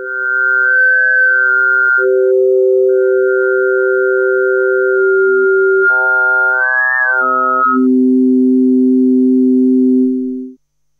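A Synth Tech E350 wavetable oscillator plays a loud, clean sustained tone that shifts pitch and timbre in steps as the waves morph, ending abruptly after about ten seconds.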